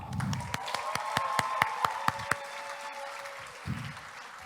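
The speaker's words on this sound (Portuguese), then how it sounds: "Salva de palmas!" Audience at a student career fair giving a short round of applause, a series of distinct sharp claps in a steady rhythm for a few seconds, then fading to quiet room noise.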